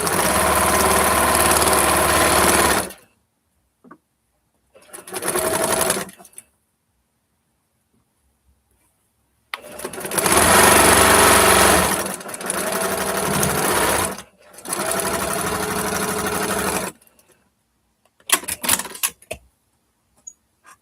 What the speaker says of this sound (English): This is the last seam.